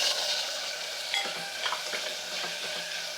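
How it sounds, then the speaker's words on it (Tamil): Small shallots sautéing lightly in oil with ginger and garlic for a mutton kulambu, a steady close sizzle with several soft scraping stirs spread through, no talking. "அதையும் இந்த இஞ்சி பூண்டோட லைட்டாக வதக்கிக்கிறேன்."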